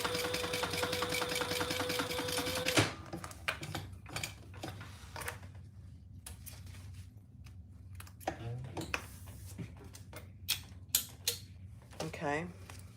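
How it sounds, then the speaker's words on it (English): A sewing machine stitches across the bottom of a fabric wallet, a loud steady whirring run at first that breaks off, followed by quieter handling clicks and short bursts of stitching. "I'm just going to sew across the bottom."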